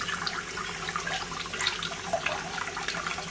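Running tap water pours over sea moss held in a strainer, a continuous close splashing hiss with slight fluctuations as the moss is rinsed, with no voices.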